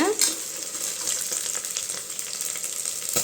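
Onions sautéing in a pan for Tamil vegetable rice, giving an even, close frying hiss with a brief clatter at the start and again near the end, and no talking.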